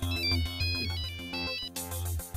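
A phone's ringing tone plays while a call is placed, a melodic electronic ringtone repeating in short bursts, clear and close with no talking.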